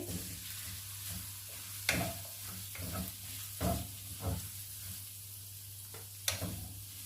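Chicken stirred into half-done sautéed onions in a pan, a continuous sizzle with several louder scraping stirs and splatter bursts, close and clear over a low hum.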